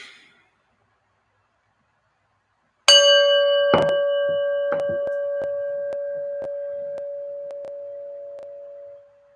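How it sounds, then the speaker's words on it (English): A small prayer bell struck once, ringing out clear and close with a long sustained tone that slowly decays over several seconds, with a few light taps during the ring and no talking. "I'm going to start with ringing our little prayer bell"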